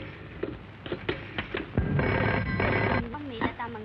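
A telephone rings in an old Bollywood action film scene, with repeated ringing bursts mixed under music and dialogue, loud and close.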